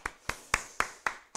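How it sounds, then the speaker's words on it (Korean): Rhythmic clapping in a church worship service, with five or six crisp, evenly spaced claps in a steady beat, sounding close and clear against a quiet background. "영광의 박수 올려드리겠습니다"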